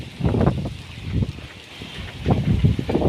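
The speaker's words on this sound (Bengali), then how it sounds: "আর দেখেন আমার এই ছাদে অনেক বাতাস" Gusty wind buffets a rural rooftop in irregular low rumbling bursts, loud and close, with no one talking.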